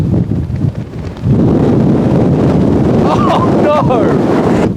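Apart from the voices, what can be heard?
strong wind blowing on a golf course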